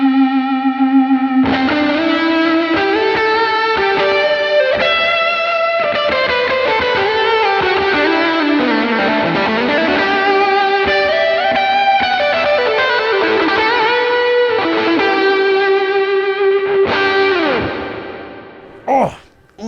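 Electric guitar played through a Keeley Dark Side distortion pedal with plate reverb, sustained distorted chords and bends ringing out with lush, liquid reverb tails, loud and alone, ending in a brief fade.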